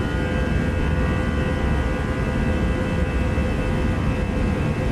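Toliss Airbus A319 engines at takeoff power in X-Plane 12, a steady loud roar with a sustained high whine, continuous and unbroken throughout with no voices.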